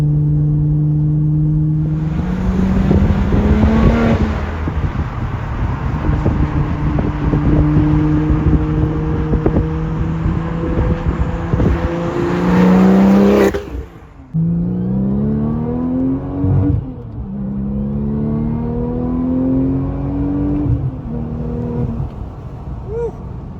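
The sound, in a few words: Porsche 996 Turbo car accelerating hard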